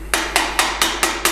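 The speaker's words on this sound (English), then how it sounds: "Don't use too much force with this one, just so just tap it in." A plastic hammer tapping a bearing into a brand-new frame, six evenly spaced sharp taps in quick succession, close and distinct with no talking.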